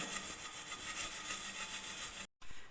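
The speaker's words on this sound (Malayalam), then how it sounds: "അതുപോലെ തന്നെ നമ്മുടെ ഈ ചായപാത്രത്തിൽ ഈ ഒരു സൈഡിലുണ്ടോ, ഇത് ചായയുടെ കറയുണ്ട്, ആ ഭാഗം കൂടെ നന്നായിട്ട് തേച്ച് കൊടുക്കാം." Steady back-and-forth scrubbing on a tea-stained teapot coated with Colgate toothpaste, a dense continuous rubbing close up with a brief break near the end.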